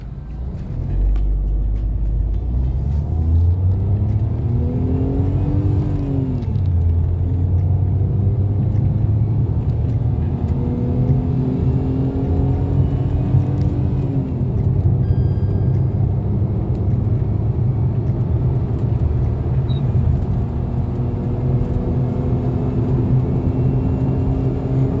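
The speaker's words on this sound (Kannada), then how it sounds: "ಈ ಟಾಟಾ ಟಿಗೋರ್ದು ಇನಿಷಿಯಲ್ ಪಿಕಪ್ ಹೇಗಿದೆ ನೋಡೋಣ." A 2020 Tata Tigor with an AMT gearbox pulls away from standstill, its engine rumble rising in pitch through gear changes, with a steady whirring drone inside the cabin and no talking.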